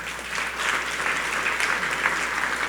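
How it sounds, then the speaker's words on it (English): Sustained audience applause fills an awards ceremony hall at a radio station's anniversary celebration, a loud, steady wash of clapping from a large crowd. "Give yourself some well-deserved round of applause."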